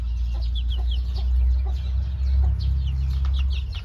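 Many Bua Loi chicks cheep and chickens cluck continuously nearby, a busy overlapping chatter of small high peeps over a low steady background hum.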